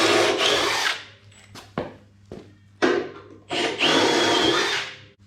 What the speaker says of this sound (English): A hole saw, it's the same size as the crush tube, and bung it through the chassis as well.